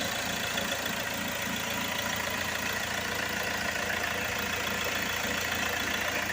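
A Hyundai i20 car engine idles steadily with a constant low rumble and hum, no voices.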